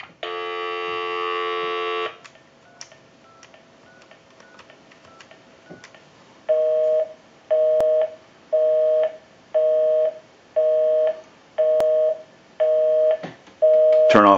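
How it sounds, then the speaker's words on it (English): A Sitel wood wall designer telephone: a steady dial tone sounds for two seconds, brief quiet clicks follow, then a run of evenly spaced repeating tone bursts, like a busy signal, closes it out. "Give you some dial tone."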